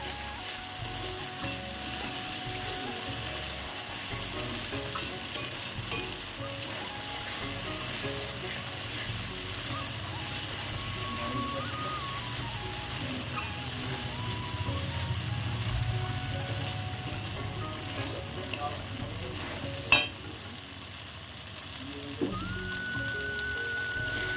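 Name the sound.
masala being sautéed for prawn malai curry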